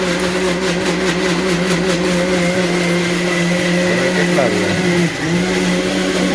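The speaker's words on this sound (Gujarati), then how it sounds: "પછી મિક્સર ને આવી રીતે ચાલુ કરવાનું" A kitchen mixer grinder runs loaded with red chillies, a loud continuous whirring hum held close throughout with a brief pitch dip near the end.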